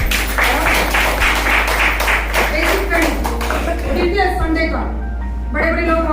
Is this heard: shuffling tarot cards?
no